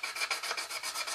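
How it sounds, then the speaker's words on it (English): Sanding a plastic 1/32 Trumpeter Swordfish aircraft model kit, a steady run of quick rasping back-and-forth strokes about eight per second, close and fairly quiet with no talk. "finish sanding up those points in here"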